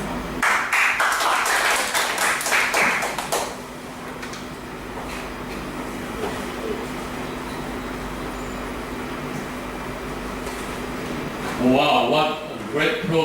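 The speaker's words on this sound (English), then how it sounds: "Give her a big round of applause" Applause for a speaker at a Toastmasters club meeting: a few seconds of clapping at the start, then fading into a quiet room hum, with a short livelier stretch near the end.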